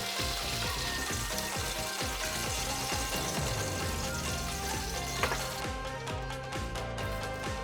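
Ume-flavoured chicken karaage deep-frying in hot oil turned up to high heat, a dense, steady crackling sizzle that fills the scene without pause, with no one speaking.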